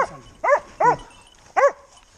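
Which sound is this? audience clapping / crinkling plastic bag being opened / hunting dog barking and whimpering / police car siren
hunting dog barking and whimpering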